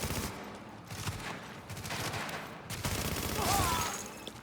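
Video game gunfire crackles in bursts and volleys under overlapping voices and in-game radio chatter. The shots sit loud and close in a busy battle mix.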